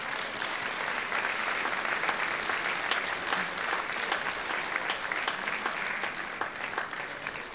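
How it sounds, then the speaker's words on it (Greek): Warm, continuous audience applause welcomes the Arion men's choir from Limassol onstage at a world choir festival of musicals, with many hands clapping evenly throughout at a moderate distance. "Παρακαλώ, υποδεχτείτε τους με ένα θερμό χειροκρότημα."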